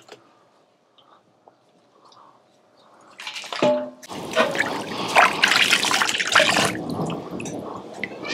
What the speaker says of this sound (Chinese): 咱把它焯出来，咱们过一遍清水，